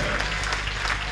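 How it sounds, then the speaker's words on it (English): A church congregation clapping together during a Sunday service, steady, dense clapping that fills the room, with voices mixed in underneath. "Come on, clap your hands, all ye people."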